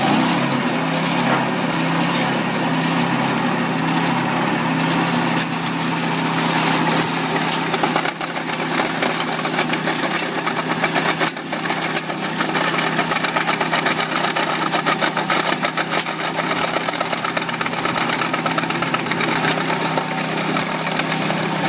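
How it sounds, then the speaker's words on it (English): A wheel trencher digs a 6-inch trench for silt fence installation outdoors, its engine droning steadily and loudly throughout, with a constant gritty churn and no voices. "we're going to install the SiltShield first by digging a 6-inch trench with the wheel trencher"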